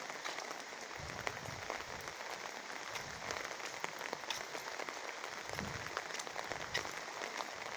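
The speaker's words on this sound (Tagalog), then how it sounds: "Ano na ulan? Wala ka pa rin humpay." Rain falls steadily in a continuous, fairly quiet patter, with scattered drops ticking on a surface and a few soft low thumps.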